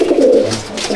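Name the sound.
Andhra pigeon cooing in breeding loft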